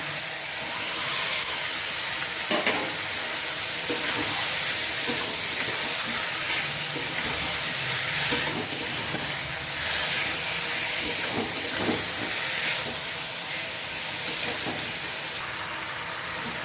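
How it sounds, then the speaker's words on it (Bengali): Taro stolons frying with turmeric, salt and spices in a pan for a katla fish curry, a continuous dense sizzle and hiss with occasional stirring scrapes, close and steady, without talk. "মশলাটা ভাজা ভাজা হয়ে গেছে, এখন আমি এটার মধ্যে লতিটা দিয়ে দিচ্ছি।"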